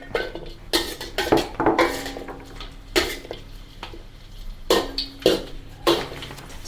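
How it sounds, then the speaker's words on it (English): Whole garlic cloves are stir-fried in oil in a wok. Loud, irregular metal scrapes and clanks from the spatula against the wok sound close up over a quiet sizzle. "Stir fry the whole cloves until fragrance turns golden brown and slightly charred on the surface"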